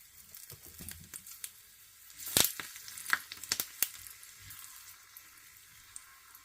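Red chilies and curry leaves crackling in very hot oil, a faint sizzle punctuated by a few sharp pops and spatters near the pan.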